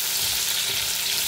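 Chopped onion sizzles in hot oil in a pan for chicken tikka biryani, a steady, close crackling hiss with no voices.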